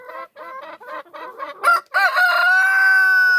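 A domestic rooster kept with chickens crows close and loud, opening with a series of short choppy notes before one long, sustained strained crow at the end.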